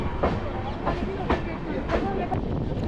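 Inside a moving train in India, a steady rumbling roar with faint rhythmic clacks of the wheels on the rails, under soft background voices.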